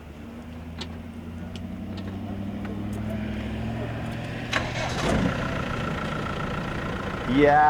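The diesel engine of a 1998 Camel Trophy Land Rover D110 idles with a low, steady rumble, with a revving swell near the end; people talk over it.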